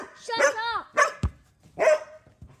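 A small pet dog gives a few sharp, high yapping barks close by, with a brief knock between them and a voice nearby.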